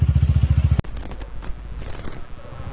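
A Kawasaki ZX10R engine idles with a fast, even, loud thumping pulse, then cuts abruptly into quieter scraping and clattering handling noises.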